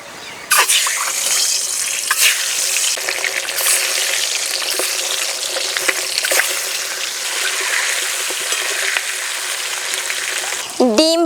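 Turmeric-and-salt-coated eggs drop into smoking hot mustard oil in a kadai, setting off a loud, sharp burst of crackling sizzle that holds steady and close, with a few stirring clatters and a final spatter near the end.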